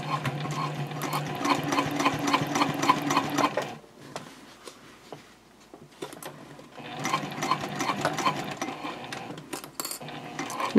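A sewing machine stitches across a joined seam on a bowler bag lining, running in two close, steady bursts of rapid ticking needle strokes with a quieter pause between them.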